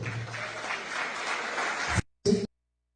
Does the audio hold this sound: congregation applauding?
yes